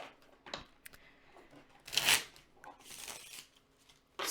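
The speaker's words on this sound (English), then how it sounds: "So as I get shuffled up here and we're about to pull that last little bit" Tarot cards being shuffled during a psychic reading, giving a few brisk riffling bursts and soft papery rustles, close and fairly quiet, with no speech over them.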